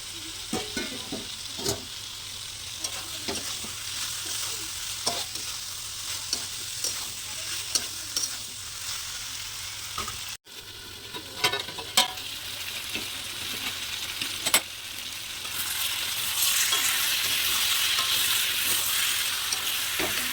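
Pointed gourd and potato pieces stir-fry with spices in a pan, giving a steady close sizzle broken by repeated scraping stirs, with a louder hissing surge near the end as the frying intensifies.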